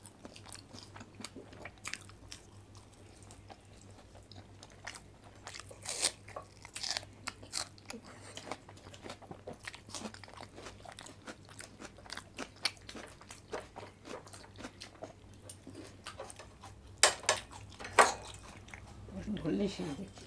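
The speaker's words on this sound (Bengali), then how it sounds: "আমি তো এগ ডেভিল খাচ্ছি প্রথমে।" Crunchy bites and chewing of a crumbed egg devil snack during an eating challenge, faint and intermittent over a low steady hum, with a few sharper crunches near the end.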